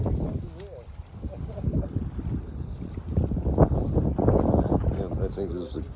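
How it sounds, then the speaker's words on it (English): Wind gusting across a lakeside campsite, a continuous rushing roar that swells louder in the second half, with people talking over it. "But now the wind's picking up a little bit."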